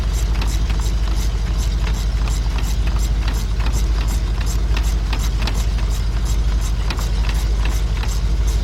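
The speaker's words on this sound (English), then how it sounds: "You hear them clicks on that ratchet" Steady rapid ratchet clicks from a hand ratchet on an extension, working spark plugs out of a Chevy Traverse engine; close, continuous and fairly loud.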